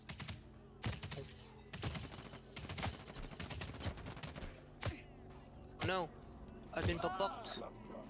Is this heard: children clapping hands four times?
no